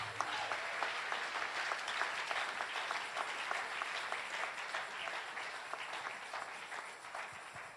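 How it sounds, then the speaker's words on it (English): A church congregation applauds at a sermon by a prophet, steady dense clapping that stays at an even level throughout before easing slightly near the end. "You can clap those hands."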